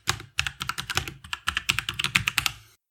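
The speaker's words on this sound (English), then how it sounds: "open up a terminal, type in .NET New Podcast" Keys clatter on a computer keyboard as a command is typed into a terminal: close, crisp keystrokes in quick uneven bursts with a short pause, then a steady run, and no voices.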